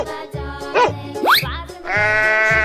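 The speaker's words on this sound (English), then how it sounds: "Sheep." Synthesized sheep bleats, a few short wavering calls among clipped electronic sound effects, loud and close.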